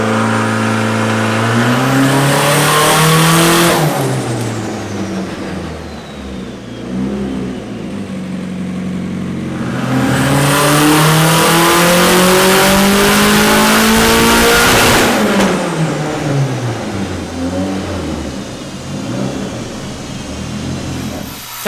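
Tuned Nissan S15 with an SR20 engine revving hard to about 8000 RPM, loud and close, with two long climbing pulls that rise, hold near the limiter and fall away, no talking.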